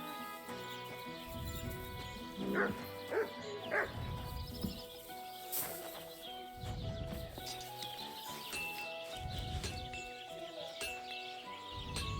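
A dog in the medieval video game Kingdom Come: Deliverance 2 gives several short barks and yips amid game music and ambience, with horse hooves clopping nearby.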